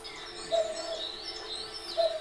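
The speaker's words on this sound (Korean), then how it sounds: "이게 뻐꾸기 소리예요?" Two soft, hollow cuckoo calls ring out about a second and a half apart over a quiet hiss of background noise.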